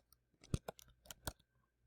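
A handful of faint, quick keyboard clicks sound in an uneven burst, as if typing a short entry on a computer keyboard in a quiet room.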